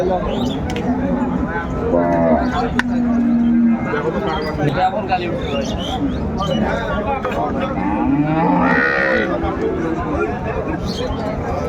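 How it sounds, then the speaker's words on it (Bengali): Sahiwal cows and calves moo repeatedly at the Ambari cattle market in Dinajpur, loud and close over a constant din of crowd chatter, with people talking nearby throughout. "শাহিওয়াল জাতের গাভি বাছুর আমরা দেখছিলাম বেশ সুন্দর কোয়ালিটির"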